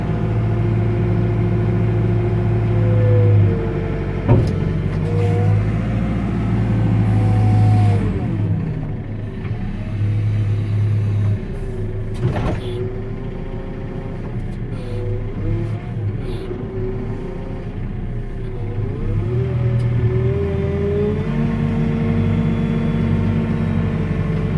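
The engine of a 2018 JCB 531-70 Agri telehandler runs steadily, rising and falling in pitch as it revs up and settles back, close and loud throughout.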